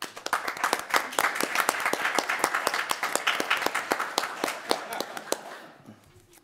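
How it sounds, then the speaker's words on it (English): Applause at a city council meeting for a local women's club, with steady, distinct claps from a modest group that taper off over the last second. "a round of applause to our Women's Club"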